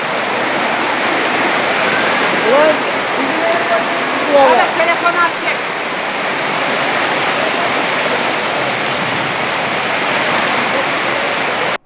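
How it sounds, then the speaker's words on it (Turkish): Floodwater rushing through a neighbourhood in Silifke, Mersin after heavy rain, a dense, steady, loud roar with a few faint tonal sounds briefly over it. "aşırı yağışlar nedeniyle meydana gelen sel ve heyelan nedeniyle bazı evler su ve çamur içinde kalırken yollar kullanılamaz hale geldi"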